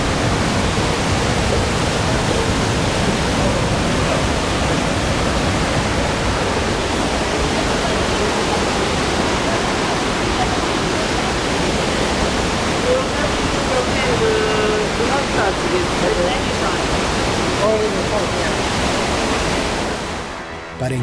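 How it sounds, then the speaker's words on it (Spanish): Underground river rushing into the mouth of a cave, a loud, steady broadband roar of water that holds constant throughout before dropping away abruptly at the very end. "estamos aquí en la boca del río subterráneo que entra por esta cueva"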